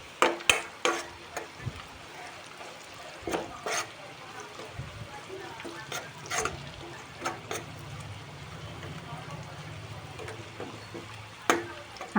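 Onions frying with ginger garlic paste in a pan, with a steady low sizzle and repeated scraping, clanking stir strokes that come in bursts, close and moderately loud.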